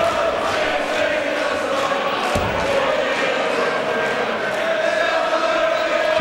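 Rowdy crowd at a pro-celebrity darts match, a continuous roar of cheering and shouting that holds steady throughout, with a brief sharp knock partway through.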